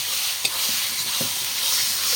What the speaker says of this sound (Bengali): এটা মশলা কষানো চলছে এখন।